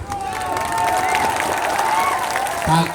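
Crowd clapping at an election rally in Kinjer, Arwal: a steady, dense wash of applause lasting throughout, with a voice or tone riding on top.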